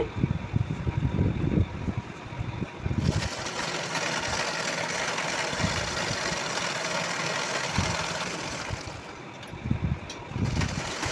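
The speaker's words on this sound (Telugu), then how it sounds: "హ్యాండ్ లూజ్ వైపు పై స్టిచ్ అయితే వేస్తున్నా చూడండి" A sewing machine top-stitches a blouse sleeve, running in a steady mechanical whir for most of the stretch with brief pauses and restarts at the start and end, close and fairly loud, with no talking.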